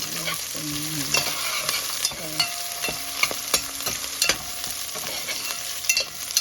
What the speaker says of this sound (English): The cumin seeds are really nice and toasty.